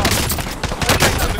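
Dense hostile gunfire in a video game firefight, a continuous fusillade of overlapping shots crackling loud and close for the whole moment, with a voice speaking briefly over it.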